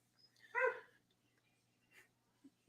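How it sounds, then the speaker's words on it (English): Dogs left outside bark once in a loud burst near the start, then go quiet apart from a few faint, short yelps or whimpers. "The dogs are not happy about being left outside."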